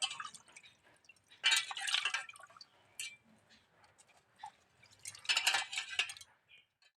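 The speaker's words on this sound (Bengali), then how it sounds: "এই যে এইভাবে সমস্ত পাতাগুলো জলে ধুয়ে নেবো" Malabar spinach leaves are swished and rinsed by hand in a basin of water, with two bursts of splashing and dripping separated by softer trickles and light clinks, close and fairly quiet.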